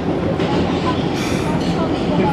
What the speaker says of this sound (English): Our train's going pretty fast right now.